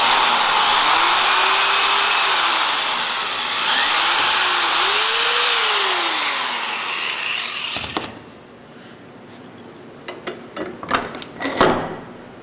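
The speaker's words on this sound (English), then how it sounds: "So put it on there and drill" Drill bit boring straight down into a block of wood, a steady loud whir with rising and falling pitch for several seconds, then the motor stops and a few scattered clunks and knocks follow.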